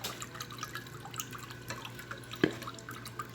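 Redbud juice drips from flowers being squeezed for jelly, faint scattered droplets and soft wet ticks, with one sharper plop near the end and a steady low hum behind.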